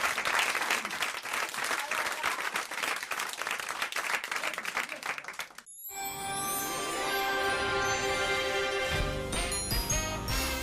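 Dense, loud applause from a radio studio audience on Europe 1, steady for several seconds before cutting to a bright, tinkling jingle of chimes.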